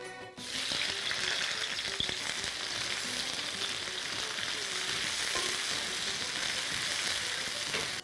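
Onion pieces dropped into hot oil give a loud, dense, continuous sizzle that fills the whole stretch close up, with faint clinks underneath and no voices.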